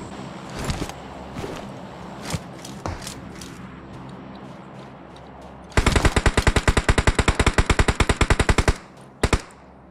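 Automatic gunfire in PUBG Mobile: a few scattered single shots, then a long fast burst of sharp, evenly spaced rounds lasting about three seconds, followed by two last shots.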